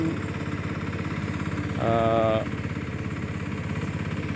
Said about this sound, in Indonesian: dengan menggunakan mesin pertanian seperti ini.